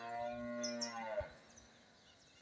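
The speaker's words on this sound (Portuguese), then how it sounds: "A vacuna ali parece que é boa de leite." A dairy cow moos close by on a farm, one long, drawn-out low call that fades after about a second, with faint bird chirps in the background.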